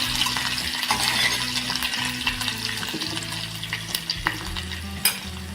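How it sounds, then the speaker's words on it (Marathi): Coriander sizzles and crackles steadily in hot tempering oil while a utensil scrapes and stirs through the pan, with no talking. "फोडणीमध्ये ना थोडी कोथिंबीर टाकली"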